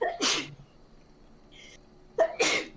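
Two sharp sneezes close by, separated by a short pause with faint breathy sounds between them.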